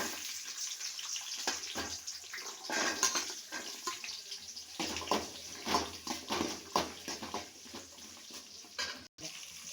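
Onions sauté in oil in a pan where garlic has already browned, giving a continuous close sizzle with wet crackling and bubbling. The hiss swells and settles slightly as the pan is worked, and no one speaks.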